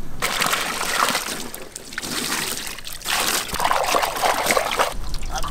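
Water trickles and sloshes steadily while a large stone fish is washed by hand for grilling, a close, continuous wet splashing with no talk.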